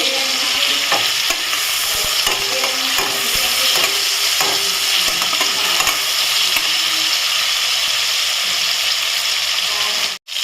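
Tomatoes frying in a pan under constant stirring, a loud steady sizzle with scraping and clinking strokes of the spatula throughout, heard close up with no talking.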